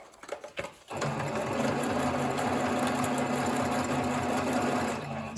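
A sewing machine stitches back over a seam in a beginner craft project, whirring steadily and close after a few brief starts, its motor hum running continuously for several seconds alone.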